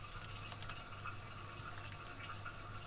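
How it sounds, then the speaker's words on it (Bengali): A pot of thin curry broth for a sour small-fish and mango dish bubbles at a rolling boil, a faint steady simmering texture dotted with small pops and one sharper tick. "এই তো ঝোলটা ভালো করে ফুটে গেছে"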